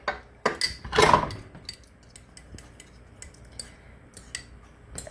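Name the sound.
fork beating an egg in a bowl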